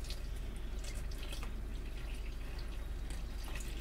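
Milk is poured into pancake batter in a mixing bowl, making a steady liquid trickle and splash with light drips, close and soft, with no talking.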